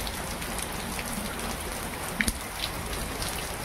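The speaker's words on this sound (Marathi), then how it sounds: "जरा पाऊस पण खूप आहे" Steady outdoor rain hissing evenly and fairly close during a heavy monsoon shower, with a couple of faint clinks from a nearby kitchen, no one speaking.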